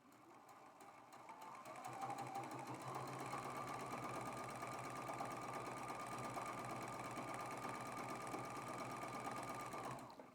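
A sewing machine runs steadily for several seconds, stitching quilt block pieces in one continuous, even whir with a fast regular stitch rhythm and no talking.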